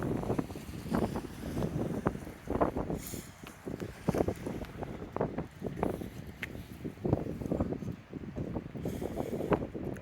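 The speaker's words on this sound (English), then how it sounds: "It's kind of now windy" Gusty wind on the sea front at Severn Beach buffets the microphone with a steady low rumble, rising and falling in repeated surges throughout.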